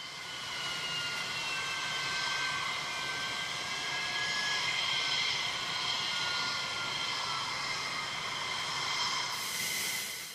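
Whining jet engines of an interceptor fighter spool down after landing, a steady high whistle with gliding tones under a broad rushing hiss, close and sustained throughout.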